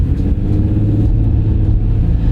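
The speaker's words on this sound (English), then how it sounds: "Let's floor it and see what it does." A car is floored from a stop in traffic, its engine rumbling loud and steady as it accelerates hard through a smooth gear change, with no talk over it.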